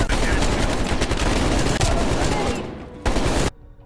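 Rapid automatic gunfire in Call of Duty: Black Ops Cold War, a loud, continuous burst of shots that thins out and then cuts off abruptly near the end.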